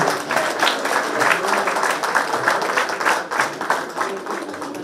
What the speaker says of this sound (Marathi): दोन्ही प्रमुख पाहुण्यांसाठी पुन्हा एकदा जोरदार टाळ्या वाजवा.